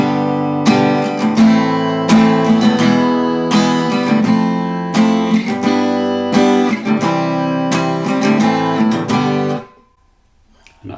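Acoustic guitar strumming a chord sequence in a steady rhythm, played twice through with full ringing chords, loud and close, ending abruptly into near silence.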